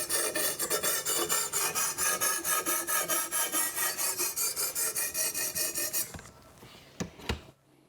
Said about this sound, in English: As you sharpen this side of the knife, try to remove the same amount of material and work your way from heel to tip